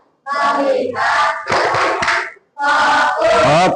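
In a school counselling class, a group chants in unison while clapping a set rhythm, crisp claps landing between loud shouted phrases in a repeating pattern with one short break.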